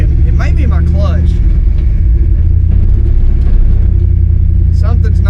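A 1976 Ford F250 with a turbocharged 331 engine limps along with a broken drivetrain, suspected clutch or rear end. A loud, steady, close engine rumble fills the cab while someone talks over it.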